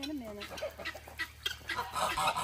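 A duck at a farm animal sanctuary makes soft, scattered clucking calls close by, mixed with quiet talking and low background hum.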